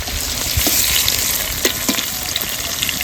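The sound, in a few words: paneer being fried in oil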